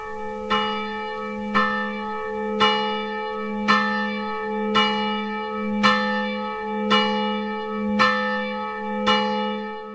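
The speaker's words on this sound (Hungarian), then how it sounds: "Kérünk szépen még egy harangszót." A Roman Catholic church bell celebrating its 100th anniversary in Alsónémedi rings alone in slow, steady strokes, about nine resonant tolls with long ringing decay overlapping each other.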